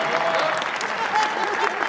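An audience at a Hindi comedy poetry gathering, a hasya kavi sammelan, claps steadily for a couple of seconds. The applause is moderately loud and dense, with murmurs in the crowd.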